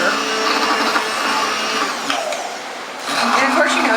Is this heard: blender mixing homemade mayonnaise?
yes